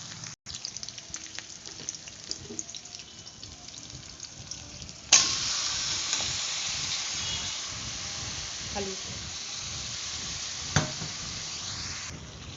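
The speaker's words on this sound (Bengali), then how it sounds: "দেখুন ওই চিকেনটা এখন আমি কড়াইয়ের মধ্যে ঢেলে নেবো" Marinated chicken, coated in ginger-garlic paste and salt, hits hot oil in a wok: a quiet stretch of faint kitchen noise gives way to a sudden loud burst of sizzling that settles into a steady, hissing fry with occasional stirring clinks.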